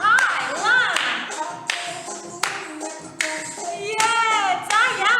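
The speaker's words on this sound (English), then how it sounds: "That's it, clap your hands." Children clap their hands along to an energetic led song, with a group singing and shouting over the claps throughout.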